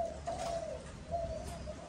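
A Malaysian dove (cu gáy), a captive-bred male, coos in a low steady call that recurs twice over a hushed background, fairly near and alone without talk.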